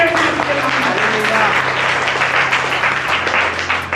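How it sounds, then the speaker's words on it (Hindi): An audience claps together as a steady wash of applause, with a sustained hum or voice running underneath. "ताली बजाइए।"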